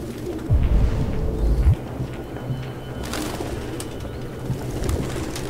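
Pigeons cooing in the video game Detroit: Become Human, low soft coos rising over a steady ambient hum, one near the start and another fainter call near the end.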